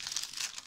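Waxed wrapping paper crinkles close up in a short, steady rustle of crisp crackles, alone with no talking.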